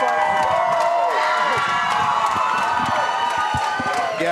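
A boxing crowd cheers and whoops loudly, a dense continuous roar of shouting voices with no break.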